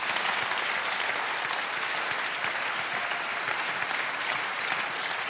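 Sustained audience applause at a national awards ceremony in France, dense steady clapping from a large crowd filling the room without a break, with no speech over it.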